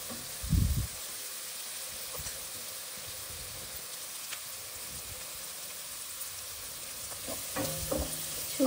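Onions frying in a pan while a radish curry is cooked, giving a steady soft sizzle throughout, with a brief louder stir or clatter near the start and another near the end.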